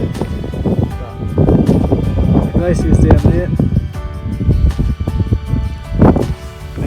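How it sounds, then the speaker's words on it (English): Strong wind buffets the microphone in the mountains along the Icefields Parkway near a glacier in Jasper, gusty low rumbling rising and falling under a person speaking. "but it's so windy"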